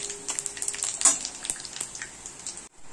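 Dried red chillies cut into small pieces and panch phoron spices crackle and sizzle in hot oil in a wok, a fairly faint, uneven popping hiss with sharp spits, cutting out abruptly near the end.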